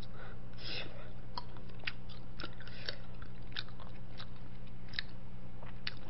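Close, wet chewing and biting of fish cake soup in a Korean eating show, with soft crunches and mouth clicks repeating irregularly over a steady low hum.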